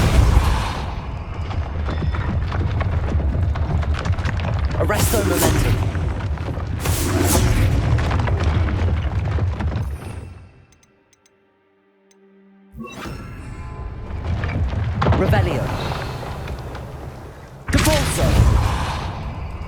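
Depulso spell blasts in the video game Hogwarts Legacy come as loud, booming bursts over a rumbling game soundscape. A short near-silent gap falls midway, then the heavy blasts return.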